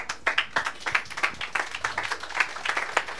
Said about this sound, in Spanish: Más fuerte los aplausos, hermanos y hermanas